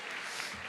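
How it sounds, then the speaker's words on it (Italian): Audience applause for students at a school ceremony, a brief, dense wash of clapping from a crowd that stays even throughout. "Applauso."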